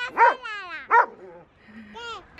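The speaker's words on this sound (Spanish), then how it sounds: "Está enfadado el perro." An angry dog barks twice, sharply and close by, and follows with a short whining, whimpering call in an otherwise quiet room.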